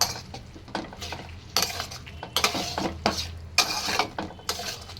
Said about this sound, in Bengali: সাবু দিয়ে নাড়াতে হবে ভালো করে